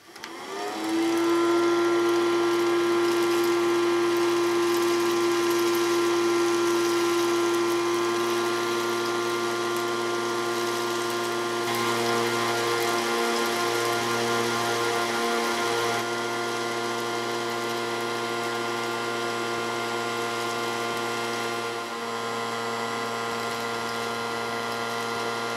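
Casdon toy Dyson DC22 cylinder vacuum cleaner running steadily with a loud, even motor whine and hum, the pitch briefly wavering as it picks up a mess, with no talking.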